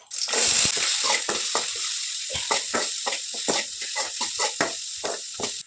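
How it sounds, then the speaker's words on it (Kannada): Chopped onion and green chillies hit hot tempering oil with mustard seeds, a loud burst of sizzling followed by steady frying crackle and repeated stirring scrapes, with no talk. "ಈಗ ಹಸಿಮೆಣ್ಸಿಕಾಯಿ, ಈರುಳ್ಳಿ ಹೆಚ್ಚಿರೋದನ್ನ ಒಗ್ಗರಣೆಗೆ ಹಾಕ್ತೀನಿ"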